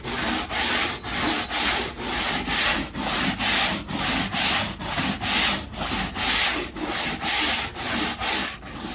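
Stiff brush scrubbing a wooden deck in steady back-and-forth strokes, about two per second, loud and close with a rough bristly rasp and no voices.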